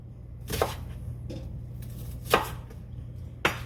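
Knife dicing white onion into thick pieces on a cutting board: three separate sharp chops spaced about a second or more apart, close and distinct over a steady low background hum.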